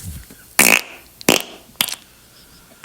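A fart from a listener-submitted recording plays on a podcast: three abrupt, loud, sputtering blasts in a row, each brief with a short tail, heard alone with no voices.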